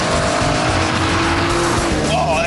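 An Aston Martin DBS V12 roars loudly under power as the rear slides out, the engine note rising and tires squealing close throughout, with no talking.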